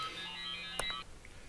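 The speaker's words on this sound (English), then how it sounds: "one of the greatest things about this program is that was my phone" A mobile phone ringtone plays as a steady electronic tone pattern for about a second, then cuts off abruptly, followed by a brief click and quiet room noise.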